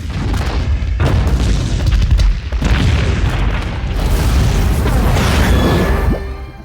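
Energy blasts strike Captain Marvel in a film scene, heard as a dense run of loud booms and rumbling bursts that keep overlapping for several seconds before fading out.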